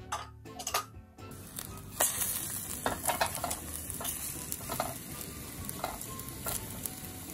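Egg being stirred into a scramble and then firmed up in a frying pan, a close crackling sizzle with scattered spatula taps and clicks after a quieter start.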